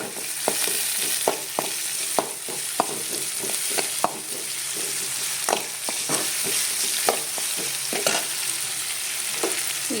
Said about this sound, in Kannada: ಟೊಮೆಟೊನು ಒಂದು ಸ್ವಲ್ಪ ಫ್ರೈ ಆಗಲಿ.